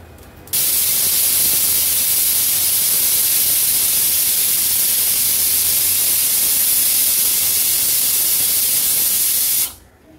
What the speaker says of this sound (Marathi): कुकरचं झाकण लावून आपण ह्याच्या 3 शिट्ट्या काढून घेऊया